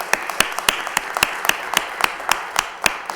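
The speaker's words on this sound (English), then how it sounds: "I want to give you a round of applause" An audience at a city council meeting applauds with brisk, dense clapping that holds steady throughout, close and lively with individual claps standing out.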